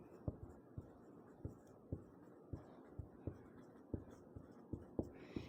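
Chalk or pen tapping and scratching out a class 10 math equation, a steady series of short, sharp strokes about every half second over a quiet room hum, fairly close and soft.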